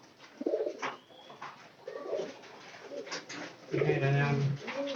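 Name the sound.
pigeons cooing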